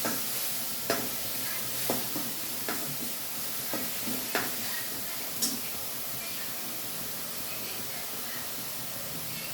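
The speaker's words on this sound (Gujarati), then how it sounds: "આવી રીતે આપણે ધીરે ધીરે એને સાંકળી દઈશું જેથી કરી ડુંગળીને જે કચાશ હોય એ બધી શેકાઈ જાય" Onions roast in a hot pan for a Gujarati green pigeon pea dish, with a soft, steady sizzle and a spoon scraping through them about once a second, close and fairly quiet.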